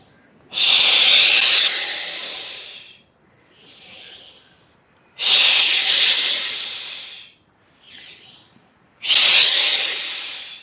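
Three long, loud, hissing breaths drawn in steadily during a yoga breathing exercise, each lasting about two seconds, with softer, quieter exhalations between them and no talking.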